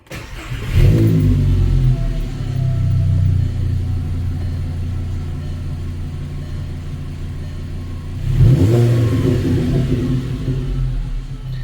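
A 2006 VW Jetta with the 2.5L engine runs right after new NGK iridium spark plugs were fitted, giving a steady close rumble with two revs that rise and settle back to idle, with no talking.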